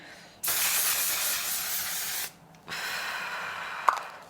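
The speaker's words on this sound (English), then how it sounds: "I do want to add a little bit more setting spray." Makeup setting spray misted from a bottle in two bursts, a long hiss of about two seconds, then a brief pause and a second spray, close and fairly loud.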